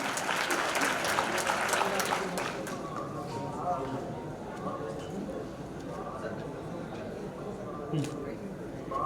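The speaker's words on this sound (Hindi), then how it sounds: "जोरदार तालियां बालक कन्हैया के लिए।" Applause for a schoolboy at a community talent award ceremony, heavy and full for the first two seconds, then fading into sparse scattered claps under crowd murmur and a speaking voice.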